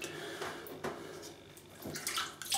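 Water splashing and trickling as a shaving brush is wetted, with short bursts of running water and a brief louder splash near the end, close and alone.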